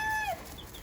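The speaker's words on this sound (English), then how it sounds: "the chicken behind me" A chicken gives a short, close cluck-like call that slides downward, followed by faint chirps in a quiet indoor setting.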